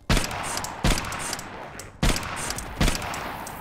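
Rifle gunfire in the VR game Compound: four sharp, loud shots in uneven rhythm, each with a short ringing tail, and no talk over them.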